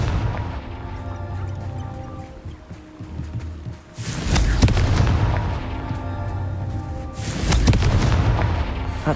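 Two heavy booming blasts from the Confringo fire spell in the video game Hogwarts Legacy, each a loud roaring burst about three seconds apart, rising out of a softer ambient game background.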